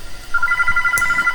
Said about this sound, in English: Guys, the phone is ringing.